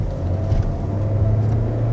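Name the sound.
2021 Kia Seltos 2-liter 4-cylinder engine accelerating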